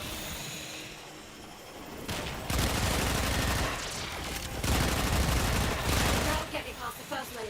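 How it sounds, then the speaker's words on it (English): Warframe gunfire in a base assault builds into sustained loud fusillades of rapid shots, with booming, rumbling impacts mixed in, and a voice is heard partway through. "Take that base. Shoot everything that moves."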